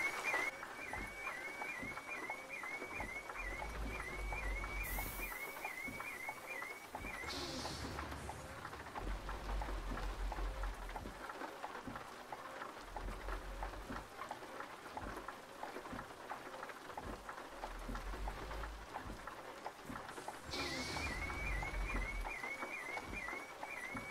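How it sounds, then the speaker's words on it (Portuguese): Rain patters steadily on a truck roof in Euro Truck Simulator 2 while a low engine rumble pulses underneath, with a few brief whooshes and no speech. "e deixar a chuva molhar o caminhão"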